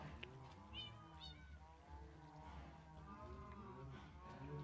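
A cat in the video game Minecraft meows several times in quick succession, with short rising and falling calls over a steady low game background.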